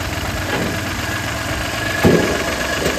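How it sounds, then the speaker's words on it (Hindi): Renault Kwid engine idling after a full overhaul, a steady close mechanical rumble with a light knocking rhythm and a brief louder bump near the end. "रमा होता जाएगा, इंजन स्मूथ होता जाएगा।"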